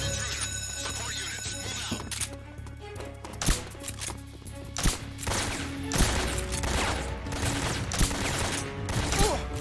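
Gunfire in the video game Metal Gear Solid 3 Snake Eater, with repeated sharp shot bursts over a dense, busy game soundtrack and ambient machinery hum.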